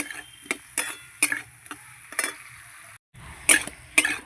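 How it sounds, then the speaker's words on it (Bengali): Metal spatula scraping and tapping in a pan as sliced mati potatoes are sautéed with a little turmeric for an amudi fish curry: a handful of sharp, separate strokes, one brief pause, then more strokes. "এবার আমি ভালো করে কষিয়ে নেব"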